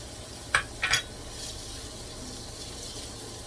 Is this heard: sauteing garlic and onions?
yes